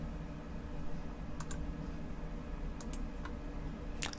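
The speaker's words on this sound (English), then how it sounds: "We can type it." Keys tapped on a computer keyboard while entering an email campaign rule, a few short scattered clicks in small bursts over a steady low room hum, close but faint, no voices.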